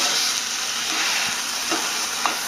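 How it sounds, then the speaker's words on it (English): Chopped eggplant is stirred in a hot frying pan, a continuous close sizzle and hiss with a few soft scraping knocks from the stirring, and no voice. "And mix it up well."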